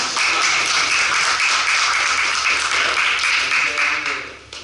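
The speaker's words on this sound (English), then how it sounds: "if audience no more questions, then the audience can applaud once again" Audience applause at a dissertation defense, a dense, steady wash of many hands clapping close by that holds for several seconds and then thins out toward the end.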